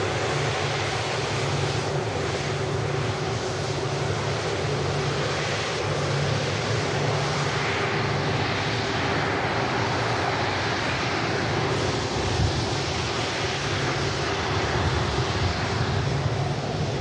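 Boeing 737 MAX touching down, a continuous distant broadband jet rumble and rush, steady in level throughout, with no talk.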